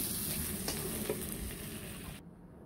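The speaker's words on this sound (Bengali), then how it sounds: "এই মলা মাছ আর ট্যাংরা মাছগুলো ভেজে নিলাম, এর সাথে পেঁয়াজগুলো একটু ভেজে নিলাম" Mola and tangra fish frying with onions in hot oil, a steady close sizzle with faint stirring clinks that cuts off sharply near the end, and no voices.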